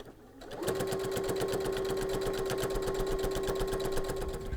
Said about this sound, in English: Let's move our needle over a bit and give it a good sew.